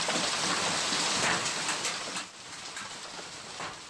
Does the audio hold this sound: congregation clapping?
no